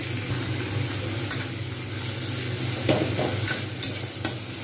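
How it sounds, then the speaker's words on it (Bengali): A spatula stirs and presses soft tomatoes in a hot pan while cooking rohu fish curry with radish, giving low sizzling and bubbling under several distinct scraping taps. "একটু খুন্তি দিয়ে এইভাবে একটু চেপে চেপে নেড়ে দিলেই কিন্তু অটোমেটিক্যালি হয়ে যাবে"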